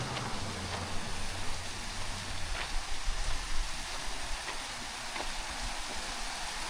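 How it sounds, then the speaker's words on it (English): A small waterfall in the Southern California mountains pours with a continuous broadband rushing and splashing, steady and fairly close, with no talk over it. "A little waterfall."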